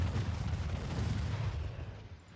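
Torpedoes strike a warship in a naval battle in Ultimate Admiral Dreadnoughts, a loud, dense run of deep booming rumbles that merge together and fade slightly at the end.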